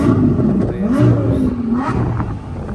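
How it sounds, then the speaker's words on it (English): A Lamborghini supercar engine revs loudly and close by, rising and falling in pitch over a few seconds with a strong low growl, at a gathering of supercars on a road trip in Ireland. "It's a Lamborghini."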